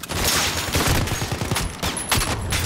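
Rapid gunfire rattles through a firefight in Call of Duty Modern Warfare, with dense bursts and overlapping shots that keep a loud, continuous barrage going.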